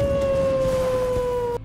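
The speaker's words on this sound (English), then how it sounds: "Run around the ruins and you will hear a howl periodically that sounds like this." A long, steady wolf howl echoes through the Mistwood ruins in the Elden Ring video game, holding a single sustained pitch that slowly falls and then cuts off abruptly after about a second and a half.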